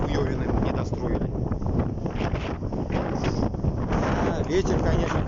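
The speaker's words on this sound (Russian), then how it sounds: "Ветер, конечно, конкретно." Strong wind buffets the microphone with a constant, loud roaring rush, gusting unevenly throughout.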